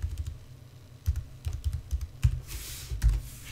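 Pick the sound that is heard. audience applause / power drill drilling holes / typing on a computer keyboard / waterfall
typing on a computer keyboard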